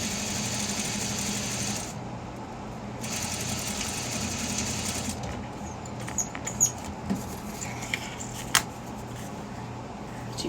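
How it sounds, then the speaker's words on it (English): A sewing machine stitching around the edges of an eyeglasses case, running in a steady fast mechanical whir, pausing briefly, then continuing with a few small clicks and taps. "Right now I'm just sewing around the edges."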